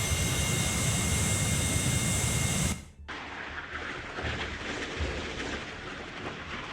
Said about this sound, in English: This gonna be an F-35 or a Typhoon?